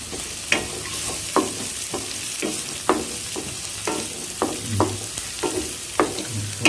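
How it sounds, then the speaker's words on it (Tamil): Lemon rice with green chillies is stir-fried in a pan, a steady sizzle broken by rhythmic scraping tosses of a spatula roughly twice per second, close up with no voices. "எல்லாத்தையும் போட்டுட்டு நல்லா புரட்டுங்க"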